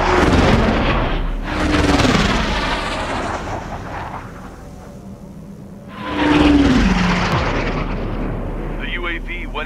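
Jet aircraft in Ace Combat 7 flying through a final mission, with loud roaring engine surges and booming bursts of fire rising and fading in two big waves, with radio voices speaking over the action.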